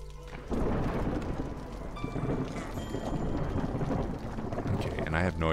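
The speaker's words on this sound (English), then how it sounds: "I have no idea how we get through this storm" Thunderstorm in the colony-building game Against the Storm: steady rolling rumble and rain wash, loud and continuous, with a faint synth drone and game tones layered over the storm.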